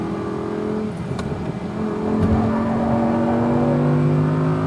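An Audi R8 V10 RWD accelerates on a race track, its engine droning steadily and rising in pitch as it builds speed, heard loud and close from the cabin with no talk.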